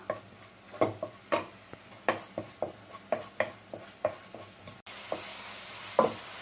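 Onions sautéing in a pan, with a spatula scraping and tapping in a quick, regular rhythm over a faint sizzle, close and quiet, and the bed of sizzle brightens near the end.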